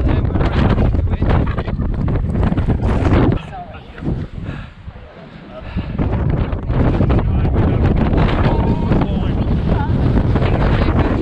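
Strong wind roars across the microphone during a bike ride in Sussex, loud and constant, easing briefly midway before rushing back in.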